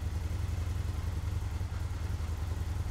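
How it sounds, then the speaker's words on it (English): An Indian FTR 1200 motorcycle engine idles steadily with a low, throbbing rumble and a light mechanical clatter, close by and running evenly without a break and with no voices over it. "Start the engine"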